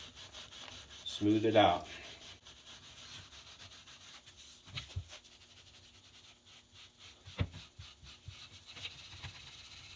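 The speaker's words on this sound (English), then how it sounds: "I'm going to take some super fine steel wool and I'm going to rub it down" Super fine steel wool rubs along a Husqvarna hatchet handle with soft, close scratchy strokes: one louder burst early, then fainter intermittent rubs, with a brief spoken phrase.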